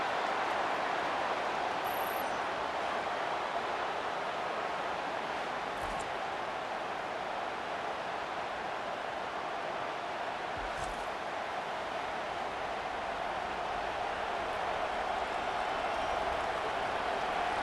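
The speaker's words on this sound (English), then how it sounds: "The roar of the crowd trying to fuel this defense to keep them pinned in their own end" A football stadium crowd at a Purdue Boilermakers vs Ohio State Buckeyes college game roars as a continuous, dense wash of noise, steady and broad throughout.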